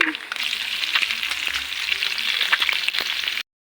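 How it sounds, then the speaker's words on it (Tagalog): An egg fries in a pan with a steady, close sizzle and scattered crackling pops, continuous for over three seconds before cutting off abruptly. "Mag-egg frying tayo ng itlog."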